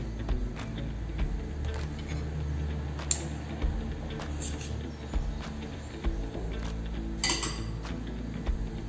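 A spoon clinks repeatedly against a cup while creamy coffee is mixed with very hot milk, bright metallic taps in an irregular rhythm over a steady low background hum, close and without talk.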